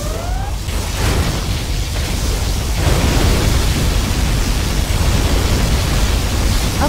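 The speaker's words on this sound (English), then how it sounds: "Particle cannon activated." Sustained roaring blast of a particle cannon firing in the real-time strategy game Command & Conquer Generals Zero Hour, a loud, dense rumble that swells after a brief lead-in and holds steady to the end.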